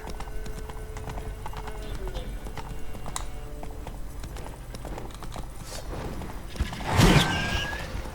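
Roach the horse gallops in The Witcher 3, hooves clip-clopping in a quick steady rhythm close up, with a louder burst of noise near the end; a voice speaks over the hoofbeats.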